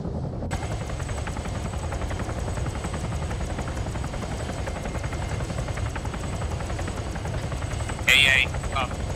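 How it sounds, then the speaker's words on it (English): A helicopter pulls in to land, its steady rotor and engine noise loud and continuous throughout, with a brief bright burst of another sound near the end. "Now we have a helicopter pulling in."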